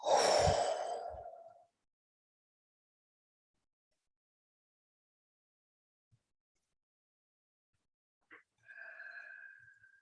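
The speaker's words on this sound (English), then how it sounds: "Just taking a couple of deep breaths" A slow, deep breath, first a long loud inhale that tapers off, then near silence, then a softer breath out with a faint click, close and quiet during a guided meditation.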